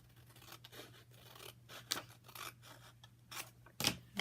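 Scissors snip through paper while making a paper bag craft, a scattering of soft close crunching cuts with two sharper louder snips, quiet and without speech.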